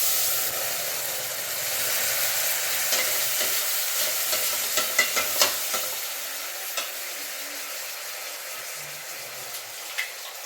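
Ground coconut chutney added to a mustard seed tempering sizzles in hot oil for a buttermilk rasam, a bright hiss with scattered pops and spoon scrapes that fades as the sizzle settles.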